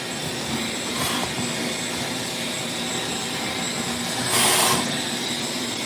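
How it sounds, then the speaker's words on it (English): A shop vac sucks up drilling debris from freshly cut holes, a loud, steady whining roar close by, with a couple of brief hissing surges as debris rushes through the hose, no talking. "now you take the shop vac"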